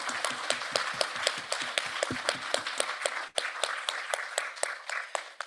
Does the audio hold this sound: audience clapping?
yes